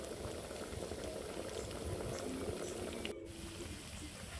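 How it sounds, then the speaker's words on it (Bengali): Puti fish fritters deep-fry in hot oil with a steady, dense bubbling sizzle that holds throughout and has one brief dip near the end, moderately close, with no voices. "তারপর তেল গরম করে তেলের উপর একটা একটা করে ছেড়ে দিব। তারপর এপিট ওপিট ভালো করে ভেজে"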